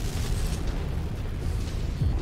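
A target is blown apart in MechWarrior 5, a heavy, low rumbling explosion that rolls on at steady loudness with a deep thud near the end.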